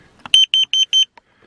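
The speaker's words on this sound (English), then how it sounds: "So it's called a carbon monoxide alarm," A carbon monoxide alarm inside a camper van gives four loud, evenly spaced electronic beeps, close and clear, followed by a faint click.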